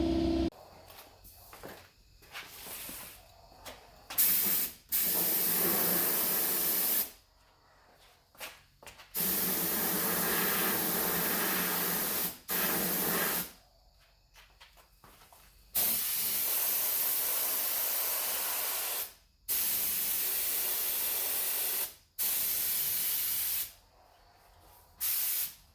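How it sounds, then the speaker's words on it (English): A paint spray gun mists epoxy primer over a scratch repair on a 2016 RAM 1500 truck. The spraying comes as repeated hissing bursts of a few seconds each, broken by short silent gaps. "I just need to mist a little epoxy over it"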